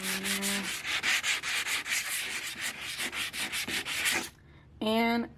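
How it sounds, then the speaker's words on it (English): Hand sanding of a concrete fireplace surface with a 120 grit sanding block: steady rhythmic scraping strokes, close and loud, ending with a short pause and a brief final rub. "120 grit sanding block, sanding those spots that have a little roughness in it"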